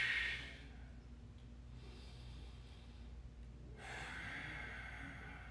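A person doing stick mobility floor exercises takes deep breaths, a soft inhale at the start, then a long quiet exhale and another breath building near the end, faint and close with no talking.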